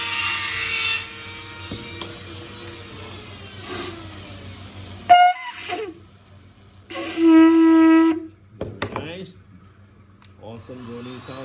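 A shofar of the Gideon's Weapon type, tuned to a droning low G, gives short blasts and then one held, buzzy drone of about a second, with scraping handling noises and pauses between.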